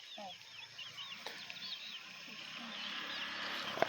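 Chickens on a small farm plot cluck and call in short, wavering bursts at moderate distance, several birds overlapping against a quiet rural background.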